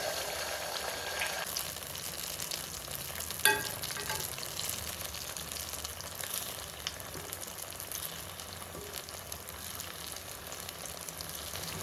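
Periya Karthikai appam batter fries in hot oil over a medium flame, giving a continuous soft sizzle and bubbling with one brief tap partway through, close and fairly quiet.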